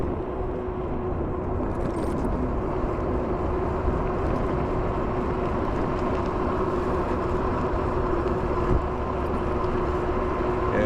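A train rolls past near the Fort Worth Zoo, making a steady, rumbling mechanical roar that holds at an even loudness throughout, with no speech over it.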